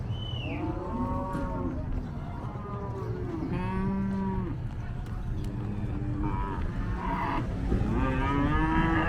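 Cattle at a large livestock market in northern Iran give repeated loud, drawn-out moos over a constant background din of the busy market.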